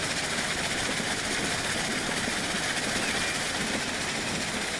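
A steam locomotive in the video game Transport Fever 2 produces a steady, loud, dense rumble with a hissing wash of noise that holds unchanged throughout.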